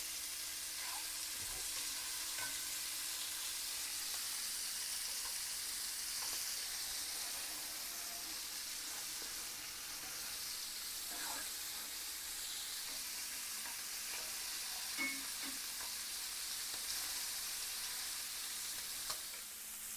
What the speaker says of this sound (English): Brown the pork chops in a pan.